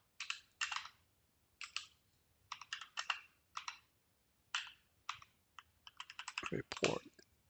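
Computer keyboard typing while entering a title into a spreadsheet cell, heard as close, crisp bursts of keystrokes separated by short pauses, with a heavier thud near the end.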